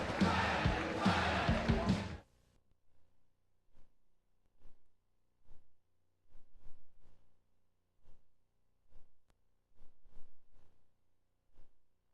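An appreciative crowd at a Canadian Heavyweight Championship kickboxing fight at the docks gives a loud, dense roar for about two seconds, then cuts off to near silence with scattered faint thumps.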